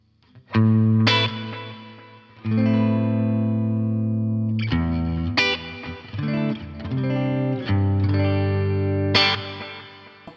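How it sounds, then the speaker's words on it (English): An electric guitar runs through the delay effects of a Boss Nextone amp, playing loud, distorted sustained chords. Repeating echo tails trail after each strum across several phrases. "So now we get three different types of delays."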